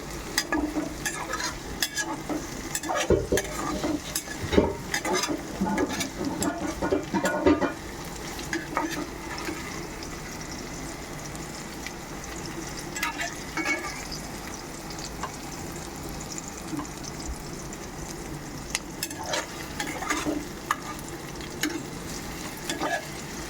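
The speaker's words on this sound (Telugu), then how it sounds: "దోరగా వేపి బ్రౌన్ కలర్గా రావాలి ఉల్లిపాయలు." Sliced onions fry and sizzle steadily in a pan for a chicken dish while a spoon stirs and scrapes through them in repeated bursts, close and fairly loud, with no talking.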